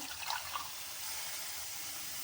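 Two glasses of water stream steadily onto rice for tomato pulao with a soft, continuous hiss and splash, fairly close and without any voices.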